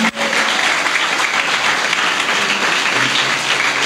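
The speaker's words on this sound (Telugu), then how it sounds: "గట్టిగా చప్పట్లు కొట్టి దేవుని మహిమపరుద్దాం." A church congregation bursts into loud, sustained clapping, a dense, even roar of many hands close by that fills the whole moment without pause.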